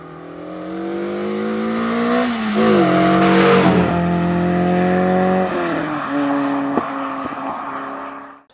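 A high-revving naturally aspirated Renault 5 hatchback engine screams loudly and close, climbing and dropping in pitch through several gear changes.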